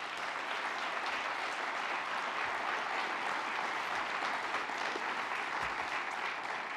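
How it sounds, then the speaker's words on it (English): Steady, sustained audience applause at a Veterans Day ceremony, a dense continuous wash of many hands clapping at even loudness throughout, with no talking. "give them a round of applause"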